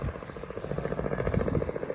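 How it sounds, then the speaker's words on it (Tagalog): A helicopter passes overhead with a steady, rapid rotor chop over a low engine drone, moderately loud and continuous, with no speech. "That's the helicopter."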